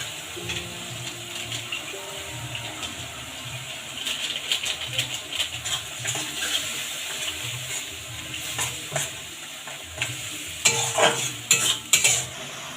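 Spice masala is stir-fried in oil in a pan for an egg kalia: a steady sizzle with repeated scraping strokes and utensil knocks, louder toward the end, over a low murmur of voice.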